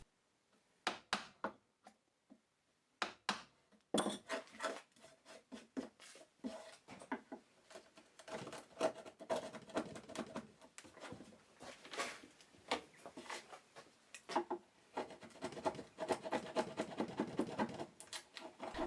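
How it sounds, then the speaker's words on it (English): A chisel chops into reclaimed hardwood while a planter mortise is cut, sparse sharp knocks at first, then a dense run of close, quiet taps and scraping chips. "I keep chopping across the mortise to make it deeper"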